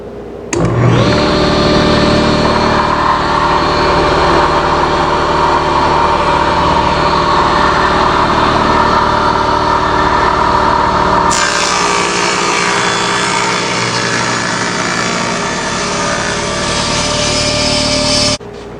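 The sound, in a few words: saw cutting jagged ends off scrap wood cutting board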